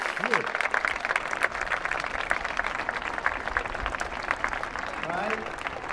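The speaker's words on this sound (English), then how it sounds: "grab your parents, give them big applause" Children and their parents applaud together in a hall during a Take Your Daughters and Sons to Work Day event, steady crowd clapping and cheering at a constant level throughout, with a few young voices calling out.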